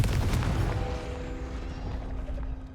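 A Confringo fire spell blast in the Hogwarts Legacy video game lands as a loud, deep boom with a broad rumbling roar that slowly fades over about three seconds.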